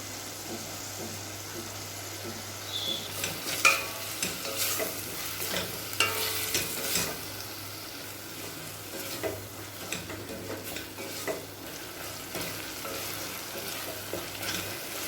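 Chopped tomatoes with salt fry in a pan for an egg masala, giving a steady low sizzle broken by repeated scraping stirs that cluster in the first half and then ease off, close and fairly quiet.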